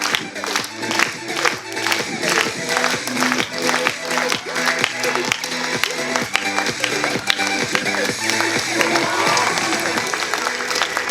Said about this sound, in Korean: 4개 박자에 맞춰서 박수 박수